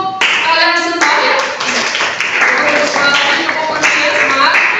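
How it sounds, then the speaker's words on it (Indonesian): A class claps out a rhythmic spirit clap, loud and close, with bursts of patterned clapping and voices chanting along in time. "tepuk semangat untuk kalian semua ya."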